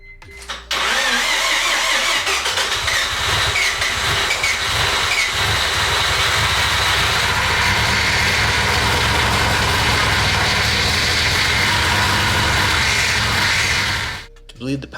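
A Mazda FD RX-7 rotary engine cranks, catches and settles into a loud, steady idle that runs close and continuous for most of the stretch before cutting off near the end.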